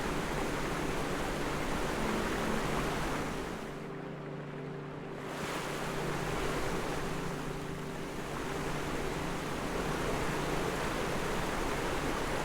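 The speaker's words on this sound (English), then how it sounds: "There's finally something behind a waterfall." A waterfall in the video game Taiji rushes as a steady, dense broadband roar that dips briefly in the middle before returning at full strength, with no voices.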